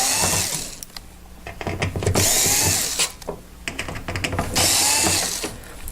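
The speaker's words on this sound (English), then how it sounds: "lay it down on one side and then remove the 5 screws" A power drill backs screws out of the side panel of an infrared heater, its motor whirring and ratcheting in several loud bursts with short pauses between, close by and without talk.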